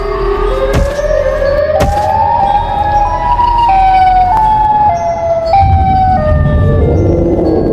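Loud wailing siren calls from a swarm of Siren Head creatures emerging from a spaceship landing in a dense forest in an animated cartoon, rising and shifting pitch continuously with sharp clanks and a low rumble beneath.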